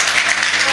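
Audience at a shayari poetry gathering welcoming poet Sultan Jahan, a dense, continuous burst of loud clapping from many hands with no pause.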